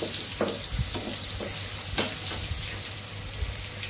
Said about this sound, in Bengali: এটা আমার চাল কুমড়া ভাজি করতেছে